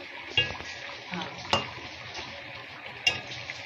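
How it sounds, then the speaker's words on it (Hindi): Beef cooking in yogurt in a pot while being stirred, a low steady sizzle with a few sharp clinks of the spoon against the pan. "दही में हल्की सी भुनाई होगी।"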